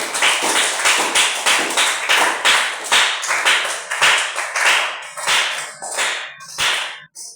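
A church congregation claps in praise, sharp steady applause from a crowd in a rhythmic pattern, loud and close, with no talking over it.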